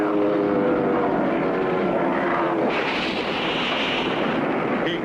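A cartoon propeller plane drones loudly and steadily, then crashes into a giant bug with a rough, noisy impact that holds to the end.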